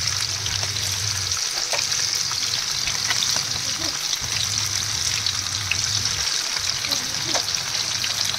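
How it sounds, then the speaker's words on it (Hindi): A whole fish fries in oil in a pan with a loud, continuous sizzle and crackle, dense and close throughout, while a low hum rises and drops out in the background. "अब इसमें मैं डाल रही हूँ ऑयल और पूरी फिश को फ्राई करेंगे"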